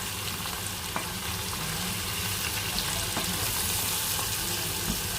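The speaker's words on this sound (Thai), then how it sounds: "แล้วก็คนนะคะ ผัดไปเรื่อยๆนะคะ" Beef stir-frying in a pan for a German Rinderbraten, a dense, constant loud sizzle with light scraping as the meat is stirred, no talking.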